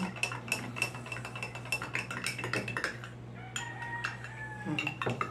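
A spoon clinks and scrapes inside a cup in quick irregular taps while stirring, close and fairly quiet, with a low hum underneath.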